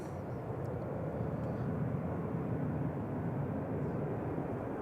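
A Ryanair airliner from Charleroi at Manchester Airport gives a steady, distant broadband jet roar that stays even in level throughout, with no voices.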